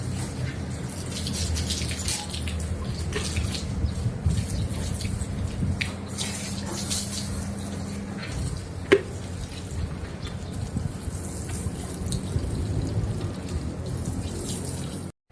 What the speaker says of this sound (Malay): Lepas ni kita akan siram dulu dengan air supaya tidak kering dengan sabun tu